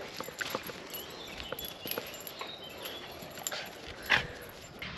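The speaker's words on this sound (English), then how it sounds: "Let's see if Roxy can get the stick." A dog runs after a stick at an outdoor dog exercise area of a caravan and camping park by Naburn Lock in York, with quick scattered footfalls, light panting and a brief sharp yelp near the end, all heard without talk.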